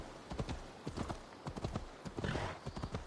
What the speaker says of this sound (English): Okay, we'll call a horse. There we go. Horse is with us. Taking a slow ride to the town.